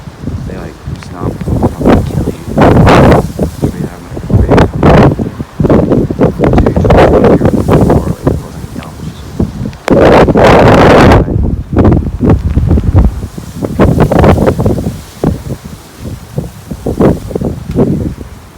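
Strong gusts from Storm Ciara thrash and rustle garden bushes in loud, buffeting waves that also batter the microphone, rising and easing for the whole stretch.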